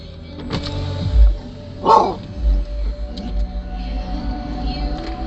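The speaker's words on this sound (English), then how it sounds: "why do you always need to bark" A dog barks a couple of times from inside a car during a drive, with short sharp yelps over the low hum of the vehicle and faint background sounds.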